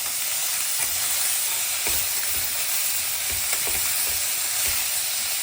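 Cucumber and green chilli pieces frying in hot tempering oil in a pan, a steady loud sizzle and hiss with occasional soft stirring knocks.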